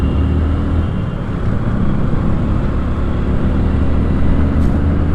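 Morning traffic jam on a road in Pune, a dense, continuous rumble of engines and tyres close by that never lets up, with no talking.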